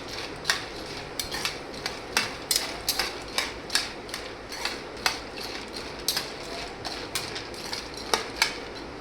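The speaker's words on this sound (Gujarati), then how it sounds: "ખાલી 1 થી 2 મિનિટ માટે જ આપણે આ રીતે હલાવી લઈશું તેને." A spoon stirs masala peanuts in a pan, giving a steady run of rhythmic metallic clinks and scrapes that stay fairly close and even.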